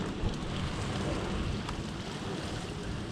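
Very heavy rain pours down during a severe thunderstorm, heard from inside a vehicle with the window cracked open, a dense steady roar with no break and no voices.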